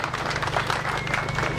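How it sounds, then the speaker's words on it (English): Audience at a classic and American car show clapping, a brief continuous patter of many hands at moderate distance, with no voices rising above it. "Round of applause."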